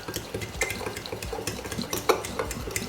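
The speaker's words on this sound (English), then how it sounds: "I'm just using the fork to mix it" A fork stirs cornmeal and water for Jamaican cornmeal porridge in a bowl, giving quick, close scraping and clinking strokes in an uneven rhythm with no talk.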